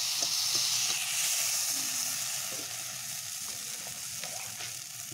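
Potatoes frying in a pan, giving an even, continuous hissing sizzle with faint clinks scattered through it, close and steady throughout with no speech over it.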